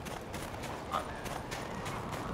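Horse hooves clip-clopping at a run in The Witcher 3, a steady mid-level gallop with a brief whinny-like accent near the middle, over continuous game ambience.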